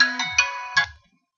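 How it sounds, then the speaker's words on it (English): A phone alarm rings out loud and close, a short electronic ringtone of a few bright stepped tones that stops abruptly. "That's just my alarm going off."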